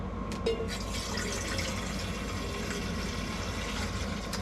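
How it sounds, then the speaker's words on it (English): Water pours into a pot for coffee at a winter camp in a cargo camper at Tuckerman Ravine on Mt Washington; a soft, continuous filling trickle runs steadily and fairly quietly. "boil some water for coffee"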